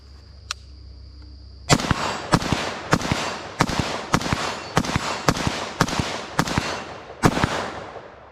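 Nine sharp gunshots from a Tavor X95 rifle fitted with a Geissele Super Sabra trigger, fired outdoors in a steady, evenly spaced string, each a loud crack with a short decay.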